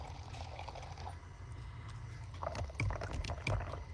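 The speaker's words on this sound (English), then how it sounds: "I'm gonna try pouring coffee." Coffee pours in a video game, a soft liquid trickle and splash building in the later seconds over a steady low background hum, with no talking.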